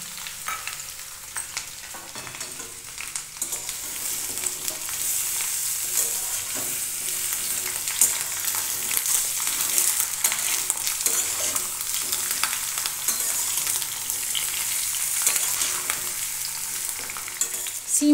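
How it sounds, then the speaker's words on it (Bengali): Broad beans and brinjal fry with potatoes in a pan, giving a steady, dense sizzle that runs continuously at a fairly loud, even level with faint stirring scrapes. "শিম বেগুনটাও এর সঙ্গে আমি ভালো করে ভেজে নেব।"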